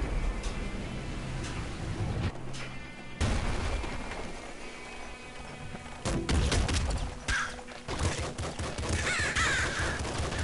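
Gunfire from the video game Nuclear Throne, with bursts of sharp shots and blasts amid chaotic game effects, moderately loud and uneven across the stretch.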